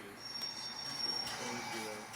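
An HO scale model passenger train runs along its track with a steady mechanical rolling hum and a faint metallic squeal, moderately close and continuous.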